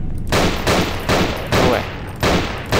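Revolver shots in the horror game Nightmare House 2, four or five loud, evenly spaced blasts, each with a decaying tail, heard alone without talk.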